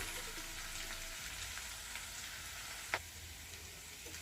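Onions frying in a pan give a soft, continuous sizzle with a faint crackle, quiet and steady, broken by a single sharp tap midway, with no voices.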